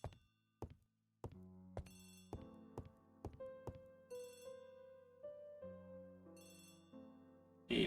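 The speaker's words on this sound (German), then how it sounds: "Ah, Telefon." A telephone rings in a sequence of tonal bell-like chimes and knocks that build into a repeating melodic pattern, clear and close with no voices.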